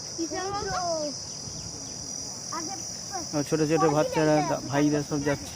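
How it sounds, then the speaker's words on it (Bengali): Crickets in a deep mangrove forest on an island make a constant high, steady chirring drone, heard beneath someone talking. "ঝিঝি পোকা ডাকছে, দেখুন ঝিঝির আওয়াজ"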